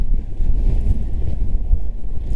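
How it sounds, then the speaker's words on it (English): Strong gusting wind buffets the microphone outdoors on a trail, a continuous loud low rumble with no voices. "This is just horrific wind."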